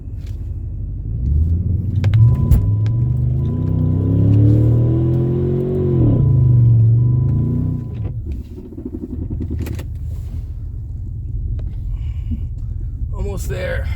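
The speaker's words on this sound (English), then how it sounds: "I'm shoveling snow with the freaking car" Jeep Commander ploughing through deep snow in a blizzard, engine rumbling loud and close as it revs and strains for several seconds, then settles to a steady idle growl with some background voice.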